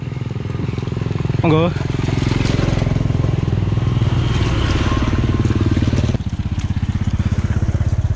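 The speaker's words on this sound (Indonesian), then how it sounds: "itu bisa saksikan ada beberapa kendaraan yang melintas" Several motorcycles pass along a rural road near Plunyon, Kalikuning, their steady engine drone loud and close throughout, with a brief voice near the start.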